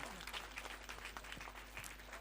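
Applause from a crowd gathered for a church feast, a steady patter of many hands clapping together at moderate distance, lasting through the short stretch with a low mains hum beneath.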